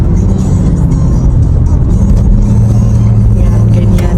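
Busy street traffic in the Philippines rumbles steadily close by, with engines droning and a vehicle revving as cars move past, and voices heard faintly beneath the constant low roar.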